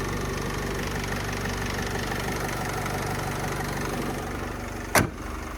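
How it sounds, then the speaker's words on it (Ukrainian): A 2014 Opel Vivaro van's 2.0-litre diesel engine idles steadily and evenly, a constant low rumble with a short sharp knock near the end. "Робота мотора просто відмінна."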